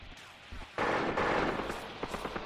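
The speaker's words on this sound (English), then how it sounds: "That's a long distance for those machine guns to open up, but they can still hit their targets." Machine guns open fire in a Graviteam war game, a short sudden burst of rapid gunfire that jumps in loudness and then rattles on in quick shots.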